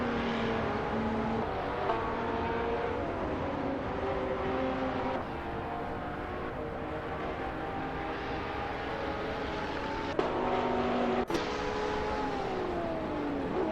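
Race cars in a racing simulation video game, engines droning and shifting pitch steadily as they accelerate and change gear, fairly distant and continuous, with no voices.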